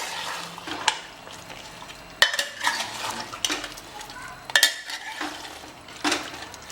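Mutton korma, Patiala style, being stirred and roasted in a pan: a spoon scrapes and clinks against the metal in irregular strokes over a steady low sizzle, close up with no talking.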